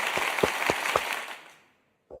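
Applause sound effect played on a show: a dense crowd clapping that fades out after about a second and a half, then a brief final burst.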